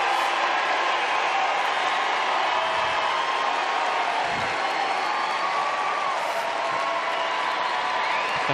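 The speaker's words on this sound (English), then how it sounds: "This crowd is not tiring of cheering." Crowd at the Westminster Kennel Club Dog Show cheering and applauding steadily throughout, a dense, continuous wash of noise in a large arena with a couple of brief louder swells.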